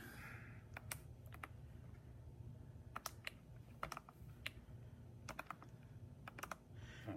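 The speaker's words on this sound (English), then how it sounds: "Type that in our calculator." Calculator buttons are pressed in short quick bursts of faint clicking taps, with pauses between groups of keystrokes in a quiet room.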